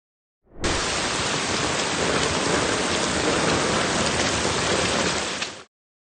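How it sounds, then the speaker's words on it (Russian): Heavy rain downpour over Voronezh, a dense, loud, steady hiss of pouring water that fades in, holds evenly for about five seconds with no voices, then stops. "Сильный ливень накрыл вчера Воронеж"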